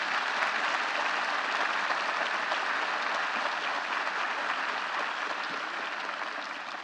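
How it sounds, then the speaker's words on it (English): A large university audience gives sustained applause at a State of the University address, an even, continuous roar of many hands clapping that fades slightly near the end, no speech. "Please join me in applauding these accomplished individuals for a job well done."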